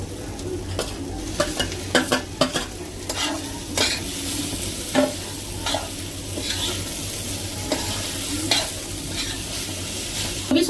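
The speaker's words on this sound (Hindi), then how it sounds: "मेरे बेल पेपर्स भी अच्छे से सौटे हो गए हैं।" Bell peppers and Maggi noodles sizzle and fry in a pan while a utensil stirs and scrapes in irregular knocking strokes, close and fairly loud, with no speech.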